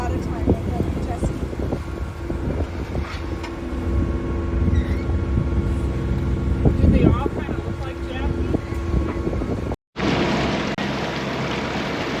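Steady loud wind buffeting the microphone over a low engine rumble, northeast wind at 18 to 20 knots gusting to 25, continuous roar with a brief dropout near the end, no speech.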